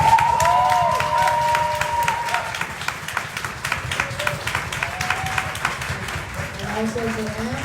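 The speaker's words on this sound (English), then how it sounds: "I want you to give a round of applause for our amazing panelists." An audience applauds panelists at a Transgender Day of Remembrance panel discussion, steady clapping with some cheering that holds for several seconds, with voices mixed in over it.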